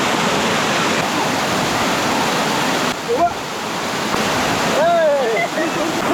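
Steady, loud rush of river water pouring over rocks where a carpet is being washed, a continuous broadband roar filling the whole stretch, with a brief whistle-like voice or call rising above it near the end.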